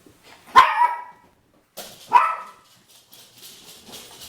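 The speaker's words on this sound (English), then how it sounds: "Again, sorry for the dogs, they're really annoying." Dogs bark close by in two sharp, loud barks roughly a second and a half apart, followed by softer, fainter yips and whimpering noises.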